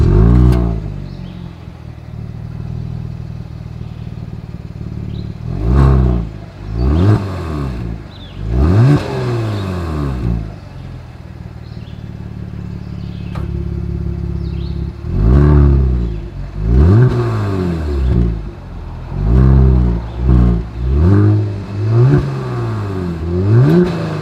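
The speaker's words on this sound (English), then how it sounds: "there are a couple different exhaust note configurations based on the drive mode. So I'm going to play both of them for you guys." A 2022 Genesis G70 exhaust barks through repeated rev blips, each a rising roar falling back to a burbling idle, loud and close, in separate bursts with a calmer stretch midway and no voices.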